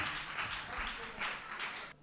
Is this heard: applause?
yes